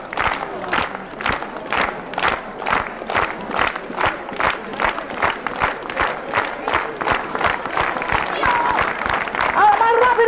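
At a village festival, the Festa de la Caldera in Montmaneu, a crowd claps in unison, starting with slow, evenly spaced beats that gradually quicken into faster clapping, with a voice calling out over it.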